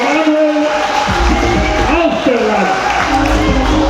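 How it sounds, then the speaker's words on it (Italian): Applause and cheering from the crowd at an Olympic-style boxing event in Nicotera, a loud, dense wash of clapping and voices with an announcer talking over it. "Un applauso anche a Manuel"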